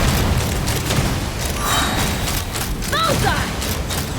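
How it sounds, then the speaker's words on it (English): Booming cannon blasts in Genshin Impact, heavy dense rumbling explosions layered with battle effects and chiming sparkles, continuous and loud throughout. "The symphony of cannon fire"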